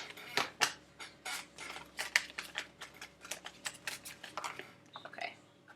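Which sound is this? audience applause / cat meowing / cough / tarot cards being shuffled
tarot cards being shuffled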